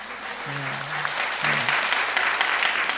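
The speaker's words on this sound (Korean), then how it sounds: "격려의 박수 한번 부탁드립니다" Steady applause from a church congregation at an afternoon worship service, dense and even for the whole stretch, with a brief tonal voice rising out of the crowd twice.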